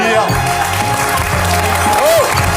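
Studio audience applauds a singer on a French television talk show, a loud, full burst of clapping with some voices and music underneath.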